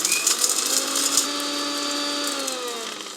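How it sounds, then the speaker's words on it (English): A kitchen blender grinds cumin and coriander seeds into a fine powder for Goan chicken vindaloo. Its motor whirs steadily and loudly, with a whine that drops slightly in pitch toward the end. "Now let's blend this to a fine powder."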